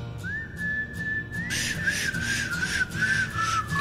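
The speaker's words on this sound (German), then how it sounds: "Pfeif mal mit." Someone whistles a melodic tune, a steady held pitch that slides up and then carries a wavering melody, set against ongoing background music and game sound from a truck-driving simulator session.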